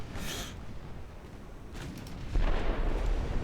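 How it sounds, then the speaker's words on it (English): A torpedo detonates in the More Speed naval game with a deep rumbling boom, preceded by a short burst and a brief crackle, the low-end blast swelling and lingering toward the end. "I think the torpedo detonated right as I saw it."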